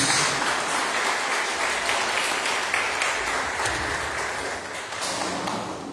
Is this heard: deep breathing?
no